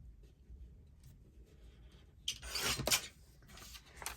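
Cardstock edge being trimmed for card making, a faint soft rubbing and scraping that builds into a few louder, close rasping strokes near the end, with no voices.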